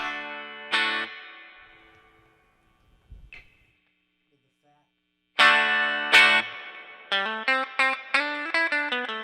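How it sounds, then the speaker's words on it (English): An electric guitar through a Fender Blues Junior Tweed amp with the fat switch off plays bright, distorted strums and choppy rhythmic stabs. Faint hum runs underneath, and a quiet gap in the middle holds a few soft knocks. "First, I'll let you hear it without the fatty fat."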